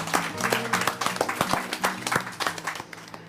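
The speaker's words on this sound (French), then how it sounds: "C'est énorme quoi, tu te fais applaudir," Audience applause for a chef in a restaurant kitchen-makeover setting: a steady run of many hands clapping with sharp irregular claps, close and fairly loud, with faint voices mixed in.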